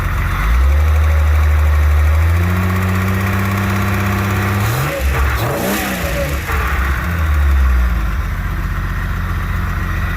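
A car engine starts and idles with a deep rumble, revving up and down a couple of times before settling back to a steady idle.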